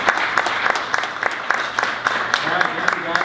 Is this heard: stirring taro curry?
no